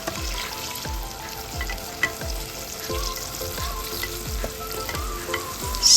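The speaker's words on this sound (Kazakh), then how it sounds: "баклажандарымның бәрін жақсылап қуырып алдым" Starch-coated eggplant slices frying in oil give a steady sizzling hiss, joined by a regular series of soft knocking thuds about twice a second. The sounds are close up, with no voices.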